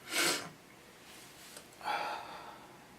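A single sharp sneeze bursts out at the start, followed by a quieter breathy exhale or sniff a moment later, with no talking.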